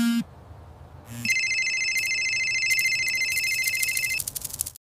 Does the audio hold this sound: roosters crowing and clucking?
no